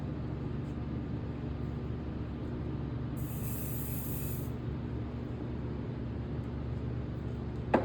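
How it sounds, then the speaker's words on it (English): Hairspray hisses from a can onto braided hair in one steady burst of about a second and a half, over a quiet room hum with no talking. "Same thing with the hairspray."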